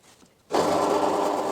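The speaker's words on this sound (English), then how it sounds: "over here I'm just drilling 35mm hole to fit onto the tenon of the screw" Power drill boring a 35mm hole into a wooden blank for a large wooden screw, a sudden start after near silence followed by a steady, close, whirring grind.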